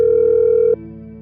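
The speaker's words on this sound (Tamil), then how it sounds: "ரிங் போகுது, எடுக்க மாட்டேங்கிறா." Steady telephone ringback tone, a single continuous held pitch with a faint hum beneath, loud and close, cutting off abruptly just before the end of the call attempt.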